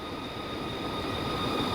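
A train coasts along in the Train Sim World game, giving a steady, continuous rolling rumble with a faint whine at a constant level and no voices.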